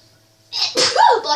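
A single quick sneeze bursts out, sharp and close, after a brief inhale, with a little nasal tail at the end.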